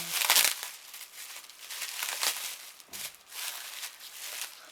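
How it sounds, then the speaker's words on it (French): Crinkling and crumpling of bubble wrap and packing material as a parcel from a home-goods order is unwrapped, in several close bursts of rustling with short pauses between them. "Tout est bien emballé dans du papier bulle et tout."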